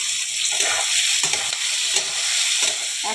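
Chopped onion, chilli and tomato fry in a pan with a loud, steady sizzle and hiss, broken by the scrape and clatter of repeated stirring, with no voices.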